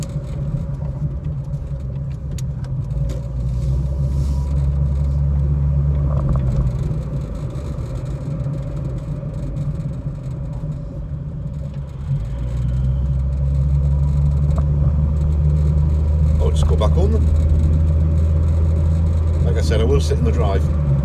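A parked car's engine idles in a driveway while its fan spins, giving a steady low rumble and whir that swells louder partway through, with voices talking over it.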